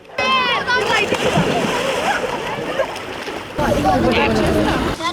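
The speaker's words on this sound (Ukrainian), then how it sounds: "Дітям до вподоби стрибати у воду з берега." Children jump from the shore into the water at a central city beach, making loud splashes and sloshing close by, with the lively noise of voices and beach activity around them.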